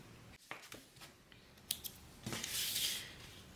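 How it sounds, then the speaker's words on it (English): Scissors make several short, crisp snips through fabric during a sewing project, close and fairly quiet, ending in a longer rustling cut. "Let's make some snips."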